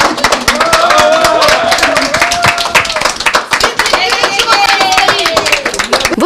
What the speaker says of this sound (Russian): Вот так бурей аплодисментов, восторженными криками встречают победителей